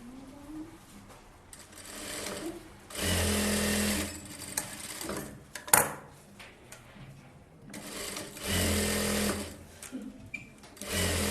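A sewing machine stitches a blouse shoulder seam in two sustained runs of rapid whirring, close and fairly quiet, separated by pauses with light handling clicks.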